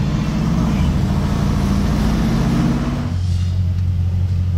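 Bugatti Chiron's W16 engine roars loud and close as a deep, sustained growl, then drops to a lower steady rumble near the end as the car passes or eases off.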